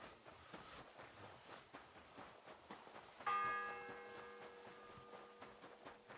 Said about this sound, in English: It's the 8th bell. I need to hurry.